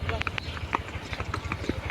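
A mare pulling a cart trots, her hooves making a quick, faint clip-clop rhythm. Voices talk over the hooves, which stay low under the speech.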